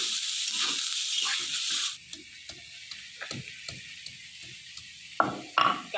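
Katla fish frying in hot oil in a village kitchen: a loud, steady hissing sizzle for about two seconds, then dies down to quieter scattered crackles and pops with a brief louder spit near the end.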